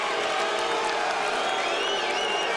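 Crowd at a UFC fight between Jon Jones and Matt Hamill applauds and cheers in a dense, continuous wash of claps and whoops from a large arena audience, steady and moderately loud.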